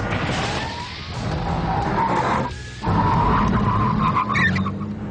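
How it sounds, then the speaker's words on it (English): Pagani Zonda F sports car braking hard from speed on carbon ceramic brakes, tyres squealing in a loud, sustained skid over engine roar, with a brief dip before the noise swells again. "when you hit the carbon ceramic brakes"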